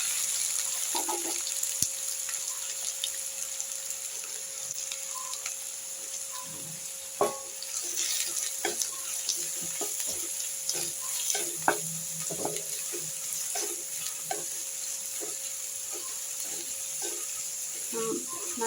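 Chopped onions sizzle in hot oil in a pan for a Tamil-style spicy egg podimas, a steady, fairly quiet frying hiss with scattered crackles and pops throughout and no talk.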